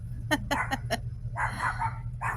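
A dog barks four quick times in a row, then lets out a longer whining bark, over a steady low hum.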